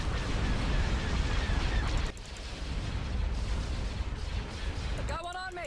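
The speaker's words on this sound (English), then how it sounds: "Direct fire at their laser cannon." Starship laser cannon fire in the Star Wars strategy game Thrawn's Revenge: Imperial Civil War, a dense, continuous barrage of blasts and explosions rumbling loudly throughout, with a brief sci-fi sweep near the end and game voices mixed in.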